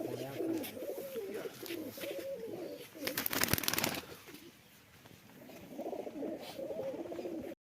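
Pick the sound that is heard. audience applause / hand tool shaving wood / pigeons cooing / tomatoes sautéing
pigeons cooing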